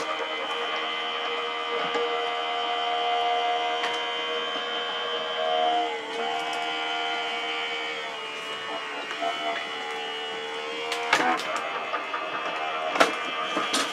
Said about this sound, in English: My die cutter, die cutting machine is off camera, but I will run this through